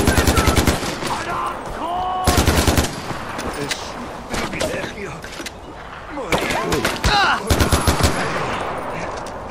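Bursts of rapid machine-gun fire in the Far Cry 4 shooter, loud close volleys separated by pauses, with people talking between and over the shooting.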